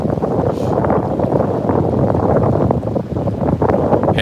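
Steady wind buffeting the microphone by the river in Manhattan at sunset, a loud continuous rumbling roar with no talk.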